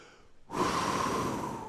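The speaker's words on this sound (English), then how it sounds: "It's called 4-7-8 breathing. And what you do is you start by exhaling and you go," A single forceful, breathy exhale at the start of 4-7-8 breathing, sudden and close, lasting over a second and then tapering slightly, heard alone after a brief silence.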